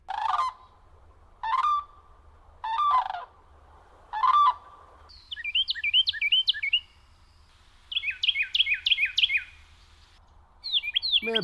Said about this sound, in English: Man, bird sounds are so cool.